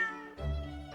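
A cat in The Great Ace Attorney Chronicles gives one short, clear meow that rises and then fades, close and alone over quiet game music.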